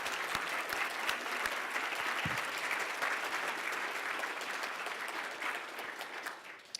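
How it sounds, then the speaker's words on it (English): An audience applauds a panel at the close of a business conference talk, a steady wash of many hands clapping evenly throughout, moderately distant and alone, tapering slightly at the end. "let's show a round of applause for these folks and what they've done for us today."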